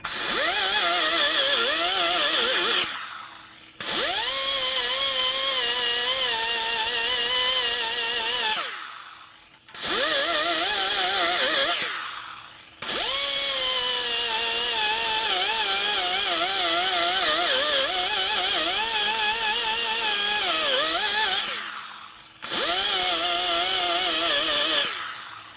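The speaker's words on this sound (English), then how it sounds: "So you pretty much hold the grinder at the angle you want to cut at." An angle grinder cuts into a 1992 Harley-Davidson 80ci Evo motor case during a repair, whining loudly in long sustained passes with the pitch wavering under load, broken by several short pauses where the motor spins down and restarts.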